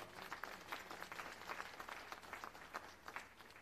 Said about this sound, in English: Put your hands together and clap, clap, clap.